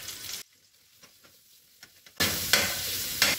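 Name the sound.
garlic sautéing in oil in a pan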